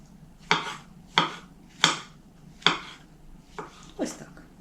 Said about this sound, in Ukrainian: І буду нарізати на пластинки